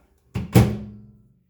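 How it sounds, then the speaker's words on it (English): A dish set back inside a microwave gives two quick close knocks, a light tap and then a heavier dull thunk that fades away. "And then we're going to stick it back in the microwave."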